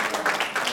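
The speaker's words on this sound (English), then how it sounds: "Big round of applause for Khatri ji." Short burst of audience applause at an Eid Day celebration for a senior program in Cupertino, several hands clapping in an uneven patter at moderate loudness, cut off after under a second.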